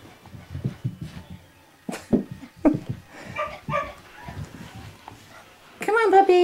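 Puppies make short yips, whimpers and barks in bursts at close range, mixed in with a person calling and talking to them in a home setting, ending with a louder, higher whine.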